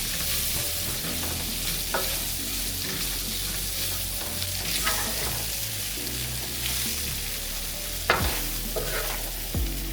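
Smoked andouille sausage browns in a pan for a Cajun shrimp pasta, with a constant, fairly loud sizzle, intermittent spatula scrapes, and a couple of sharp clanks of metal on the pan toward the end.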